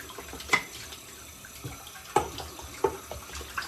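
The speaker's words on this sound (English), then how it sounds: "I'm just letting water rinse in there, and I'm swirling this." Tap water runs steadily into a copper shaving bowl being rinsed and swirled along with a shaving brush, a soft continuous trickle with a few clinks and splashes.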